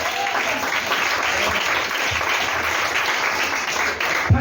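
A church congregation breaks into applause during a sermon, a dense, steady wash of many hands clapping at once, moderately loud and continuous throughout, with no voices on top.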